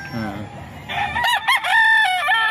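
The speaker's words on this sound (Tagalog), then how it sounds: "So ito yung manok niya, oh." A rooster in Tondo, Manila gives one loud, close crow that rises and holds before trailing off, with a voice briefly audible just before it.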